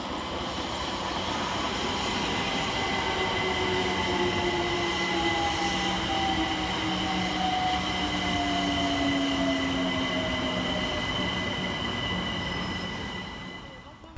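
London Overground train pulling into Anerley railway station on the far platform, a loud continuous rumble with gliding wheel squeal and whining tones that fades near the end.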